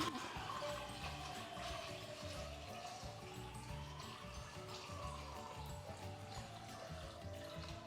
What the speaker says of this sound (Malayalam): ഇതിലേക്ക് നന്നായിട്ട് വെള്ളം ഒഴിച്ചു കൊടുക്കാം